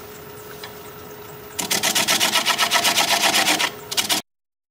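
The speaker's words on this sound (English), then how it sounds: "I'll grab a half inch standard grind bowl gouge and we'll commence to removing this tenon" A wood lathe spinning a rectangular winged bowl at about 400 to 500 RPM while a half inch standard grind bowl gouge cuts away the tenon. A steady hum gives way to loud, rapid, rhythmic chattering cuts that stop abruptly.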